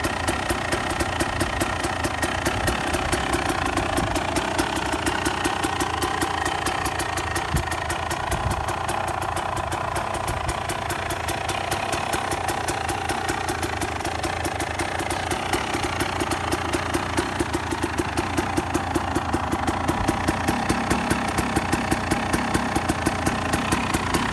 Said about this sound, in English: Tough to get them to idle like this, the two-stroke, but it couldn't be idling cleaner.